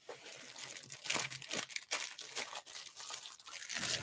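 A plastic bag holding several used diamond-painting wax pads crinkles and rustles close up, with continuous handling noise and sharper crackles throughout, and no talking.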